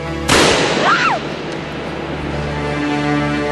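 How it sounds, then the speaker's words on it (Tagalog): A single sharp gunshot cracks out loud and close in a dramatic scene, then rings away into a lingering tail over a steady low background hum, with no talking. "Parang putok ng baril yun, ah."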